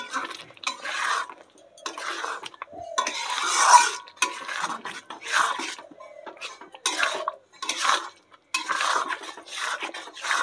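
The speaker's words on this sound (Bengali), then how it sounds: "দইটা দিয়ে ভালোভাবে কিন্তু আমি এই যে কষিয়ে নেব আরো কিছুক্ষণ" Yogurt is stirred into a fish curry in a pan, with repeated bursts of spoon scraping and clinking against the pan, a soft sizzle between them, close and moderately quiet.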